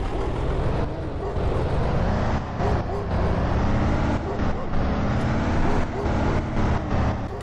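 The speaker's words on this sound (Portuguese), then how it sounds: "Ó o som do ônibus. Bem legal, né? Ó, deixa eu dar uma acelerada aqui," A city bus engine in World Bus Driving Simulator drones loud and steady as it is revved, the rumble rising in waves throughout while someone talks over it.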